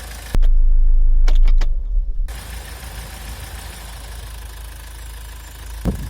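A car engine idles after a jump start from another car, a steady low rumble that runs throughout, preceded by a few sharp clicks and a loud surge near the start.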